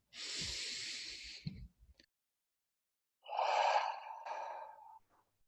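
Deep breath drawn in slowly and released as a long exhale during a guided meditation, two soft airy breathy passages separated by silence, close and quiet with no talking.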